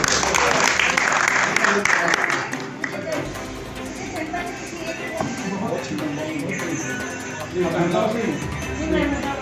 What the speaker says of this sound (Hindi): जोरदार तालियां भाई बजा दो